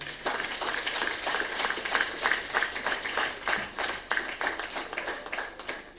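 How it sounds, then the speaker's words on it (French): Audience applause at an evening stage show in Cotonou, a steady patter of many hands clapping at moderate distance, fairly soft and sustained throughout. "Je vous demande de vous applaudir pour vous-même."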